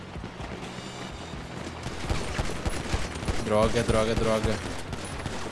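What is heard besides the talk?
gunfire in GTA 5 Online video game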